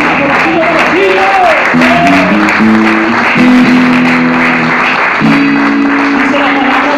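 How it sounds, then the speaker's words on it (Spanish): Church congregation applauding while music plays, with sustained tones and a singing or speaking voice layered over the steady clapping. "Denle un fuerte aplauso"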